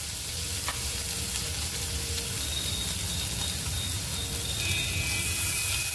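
Crushed garlic sizzles in hot oil with curry leaves as the base for a dal curry, a steady, close, continuous crackle and hiss with no talking throughout.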